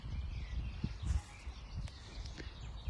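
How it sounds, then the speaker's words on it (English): Faint, scattered bird calls in spring near ducks among reeds, mixed with low rustling and soft thumps close by, outdoors at the end of April. "The birds are singing."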